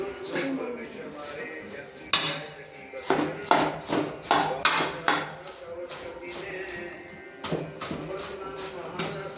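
A ladle clanks and scrapes against a small metal kadhai while panjiri ingredients are stirred, giving a run of rhythmic clinks and scrapes through the middle with softer stirring around it; a person talks throughout.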